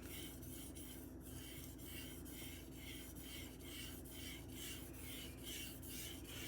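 Rapid rhythmic rasping strokes as a straight razor-style knife blade is polished by hand, each pass a short scraping burst repeating steadily at close range, with no talk.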